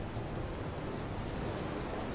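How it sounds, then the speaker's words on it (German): Open-sea waves in the video game FAR: Changing Tides make a steady, dense wash of surf and wind noise, fairly quiet and constant, with no voices. "Oh, wir sind mal wieder auf offenem Wasser. Auf offener See."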